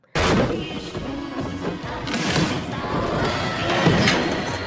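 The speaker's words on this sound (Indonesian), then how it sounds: "Namun tiba-tiba terdengar suara seperti ledakan yang bersumber dari kotak hitam." A sudden loud boom erupts at the start, followed by a rumbling, crashing wash of noise and impacts that carries on for several seconds.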